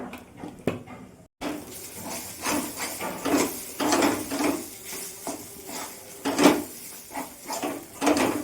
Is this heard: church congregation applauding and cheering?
no